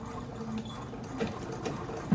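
Home sewing machine running a short stitch through shirt fabric with an even feed foot engaged, a steady close mechanical whir with faint rhythmic needle patter, briefly rising near the end.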